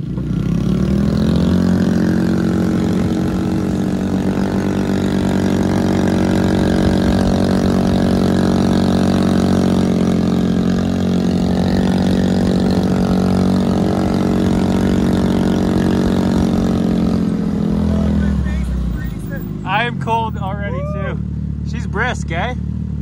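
A vehicle engine, driven out near a dug-up pipeline trench in freezing cold, runs loud and steady and then revs harder as the throttle opens, holding for about eighteen seconds before it drops away and voices take over.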